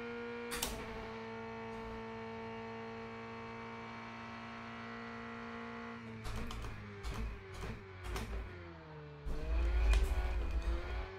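A simulated race car in Rennsport holds a steady engine drone at first, then revs up and down through several quick throttle blips and gear changes, ending in a louder surge, with the car's engine heard alone.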